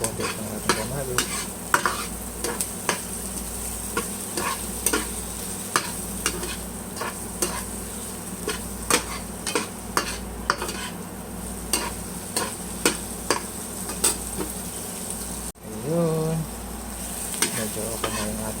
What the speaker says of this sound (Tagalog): Lutuin lang natin ang konti ng ating kamatis.